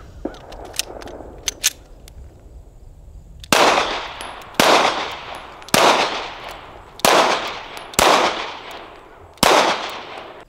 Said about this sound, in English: Do a little tactical shooting here.